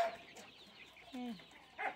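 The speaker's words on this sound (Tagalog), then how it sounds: "Imported na manok yan eh. Tapos mga layer." Imported layer hens cluck in short, soft bursts close by, a few separate calls spread across two seconds against a quiet farmyard.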